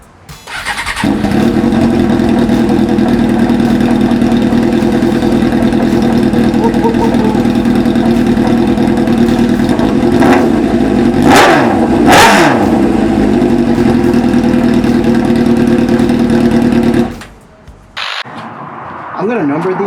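A Suzuki GSXR 600 sport bike fitted with a homemade shorty exhaust roars at close range, a loud sustained rumble with sharp throttle blips around the middle, then cuts off abruptly before briefly restarting; a voice is heard near the end.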